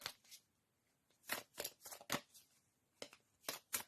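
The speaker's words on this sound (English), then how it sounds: "let's shuffle the cards" Quiet tarot card shuffling in short bursts, crisp riffling snaps separated by pauses, close by and with no talking.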